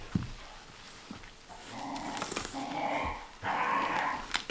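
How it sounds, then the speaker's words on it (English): Puppies growl and whimper playfully outdoors in short bursts, moderately close, with a brief yip and scuffling between sounds. "You can hear the puppies."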